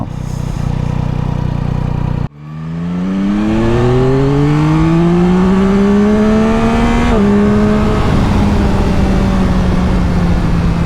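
A Yamaha Tracer 9 GT motorcycle at full throttle, engine note climbing steadily through the revs with a brief dip at a gear change, loud and close throughout.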